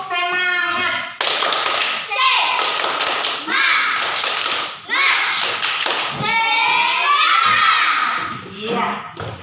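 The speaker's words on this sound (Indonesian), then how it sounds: "coba bangun dulu kita tepuk semangat. Tepuk semangat." Children in a classroom doing a rhythmic tepuk semangat clapping chant, bursts of patterned claps and taps mixed with young voices chanting and shouting along, lively and close.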